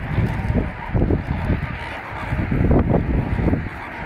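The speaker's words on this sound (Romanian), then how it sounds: "Păsările flamengo." A loud flock of flamingos honks and calls continuously at a lagoon in southern France, many overlapping goose-like cries close by, with a faint voice in the background.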